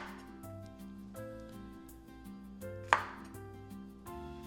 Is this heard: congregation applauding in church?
no